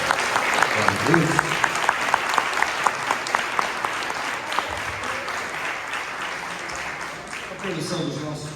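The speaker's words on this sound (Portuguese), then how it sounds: "Vamos aplaudir a Jesus, né?" A church congregation breaks into steady, sustained applause that fills the room for several seconds before gradually thinning out, with faint voices underneath.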